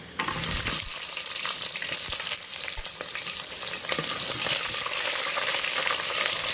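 Chopped onions sizzle and fry steadily in hot oil spiced with garam masala for a home-style Kolam rice biryani, the crackle loud and continuous, with a few clinks of stirring.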